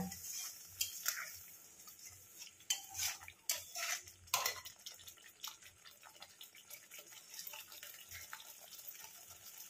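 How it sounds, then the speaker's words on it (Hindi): Water is poured into a pan while paneer is cooked, a light splashing trickle mixed with clinks and scrapes of a utensil against the metal, fairly faint and close, in uneven bursts with no voices. "टिके अधिका मु पानी देली"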